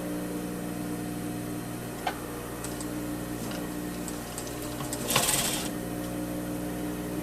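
A sewing machine stitches a polo shirt placket slit in a steady, quiet mechanical whir with faint ticking, a short louder burst of clatter around the fifth second.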